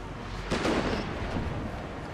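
Musket and artillery fire from a Napoleon Total War clan battle rumbles at a distance: one muffled boom rises out of a steady background din of battle.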